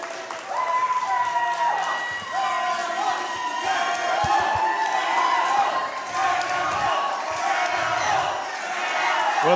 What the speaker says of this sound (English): the crowd here in Milton is cheering for Manimal